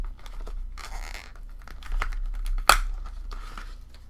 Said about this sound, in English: So let's cut out a birthday sentiment.